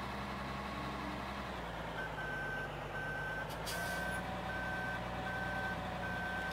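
A truck in the video game Farming Simulator 2013, on a modded Modern America farming map, idles with a low engine rumble. Steady reversing beeps join in and repeat at an even pace over the drone.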